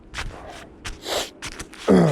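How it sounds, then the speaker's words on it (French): Several quick, congested sniffs from a person with a cold come in short bursts close to the microphone, ending with a heavier breath. "Je renifle, c'est pas la fumée"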